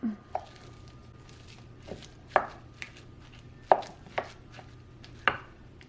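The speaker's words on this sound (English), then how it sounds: "I'm adding the Beyond Beef to the bowl. Break it up a little bit." Beyond Beef plant-based ground meat being broken up in a bowl, giving a handful of soft, squishy thuds and taps spaced irregularly, fairly close and moderately quiet over a low steady hum.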